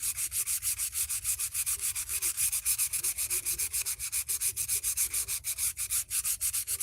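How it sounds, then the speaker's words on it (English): Steady, rhythmic scratchy rasping of sanding a redwood driftwood violin with its strings on, with regular strokes repeating quickly and evenly throughout, close and fairly loud. "just leave the strings on while I'm sanding some of it"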